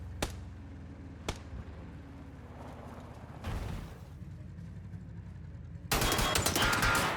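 Gunfire in the PUBG video game, with two sharp isolated shots early, then a burst of sustained rapid fire and a louder, dense volley near the end over a steady low vehicle rumble.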